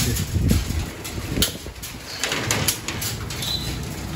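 Pigeons are herded into a loft with bursts of wing flapping, soft coos and knocks of a door or cage, close and uneven, with no talking.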